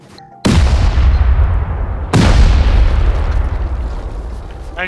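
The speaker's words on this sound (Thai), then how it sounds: "พวกเราเลยเอา C4 เนี่ยมาลองระเบิดดู" Two heavy C4 blasts in the survival video game Rust, set off near an island base, each a sudden loud boom with a long rumbling decay, the second arriving about a second and a half after the first.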